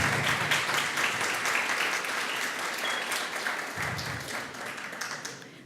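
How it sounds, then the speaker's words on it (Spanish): Applause at a conference fills the hall, a dense, sustained wash of many hands clapping that slowly thins toward the end, with a faint voice underneath. "Fuertes los aplausos."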